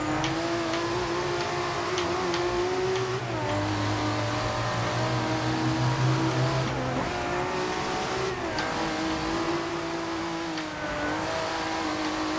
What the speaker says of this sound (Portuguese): O som do turbo é sensacional